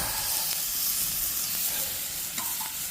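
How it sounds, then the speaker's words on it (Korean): Steady crackling sizzle of pork frying on a cast-iron lid over a wood fire outdoors, close and continuous, with a few faint clicks and taps along the way. "보글보글 아주 잘 익어가고 있습니다 화력이 엄청나게 좋습니다"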